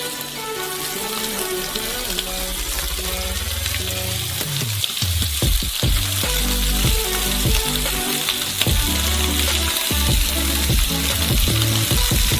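Dough crust frying in oil in a pan on a stove turned to maximum heat, a loud steady sizzle and crackle with occasional stirring clatter, close up and without voices.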